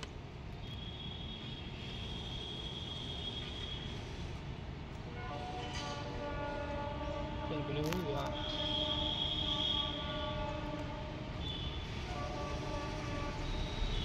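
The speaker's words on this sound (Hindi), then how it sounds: "तो ट्रेन देखिए पहुंच रही है धीरे धीरे" A short passenger train slowly pulls into platform 3 at Sitapur station on a single-line route, a steady low rumble with horn-like tonal hums rising midway, heard over background murmur of people.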